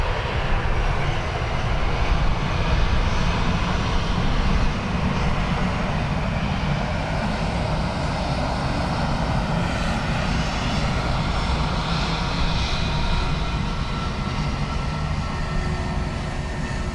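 A British Airways airliner taking off at Dublin Airport, a steady, loud engine roar with broad rumble and hiss that holds for the whole stretch without easing.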